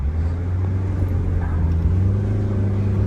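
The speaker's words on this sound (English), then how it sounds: "It's driving. I'm just gassing it right now." A Chevrolet Spark's engine hums low and steady from inside the car while driving, rising gently as the throttle is pressed, with a smooth rumble and no talking.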